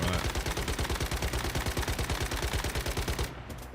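Rapid automatic gunfire from a hard-recoiling gun in a video game, a steady, loud, evenly spaced stream of shots that cuts off just before the end.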